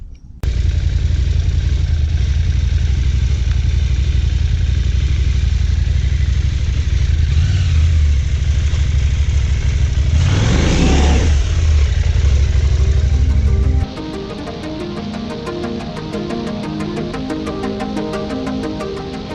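KTM 790 Adventure motorcycle fitted with a one-finger clutch, ridden: loud continuous engine roar close to the bike with a brief rising rev midway, then a slight drop to a lighter, rattling note toward the end.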